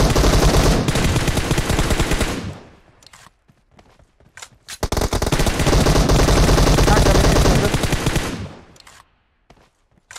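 Loud sustained machine gun fire in the mobile battle royale game PUBG Mobile, two long continuous bursts separated by a pause with a few isolated shots, close and dominant.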